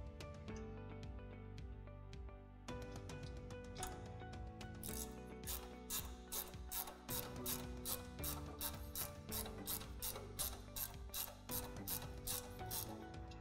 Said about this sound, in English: ratchet system using my 16mm spanner or my 16mm ratchet and ratchet the actual end of the auger up towards myself